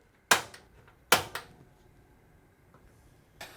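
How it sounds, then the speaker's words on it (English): A Greystone three-burner gas cooktop's spark igniter snaps as the front burner is lit, two sharp clicks close together followed by a few softer ticks, then another click near the end. "This one on this side will be your spark igniter, hence the nice little explosion symbol there."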